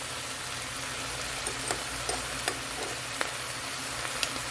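Garlic and ginger frying in a pan, giving an even, steady sizzle with a handful of sharp ticks and pops from stirring scattered through it.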